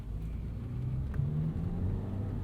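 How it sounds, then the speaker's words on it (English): A turbocharged 4-cylinder engine in a 2017 Lexus GS 200t drones low and steady from inside the cabin, a faint turbo whistle barely rising above the hum. "you just get the faintest turbo whistle in the background, and that's kind of nice too because you've got a little bit of that boosted 4-cylinder feel"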